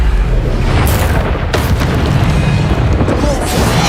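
A Bombarda spell explosion in Hogwarts Legacy lands as a loud, deep, rumbling boom with sharp crackling bursts over dense low-end roar, a continuous heavy blast of game combat noise.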